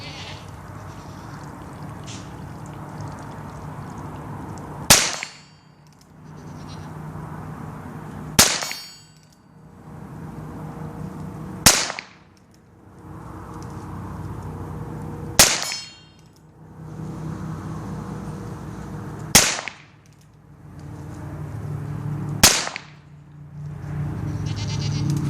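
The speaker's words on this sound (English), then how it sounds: "that's the Heritage Arms revolver for you. 6 1/4 inch barrel, 22 long rifle." A Heritage Arms .22 long rifle revolver with a 6 1/4 inch barrel firing six sharp shots, spaced three to four seconds apart over steady background hiss, each crack followed by a brief decay.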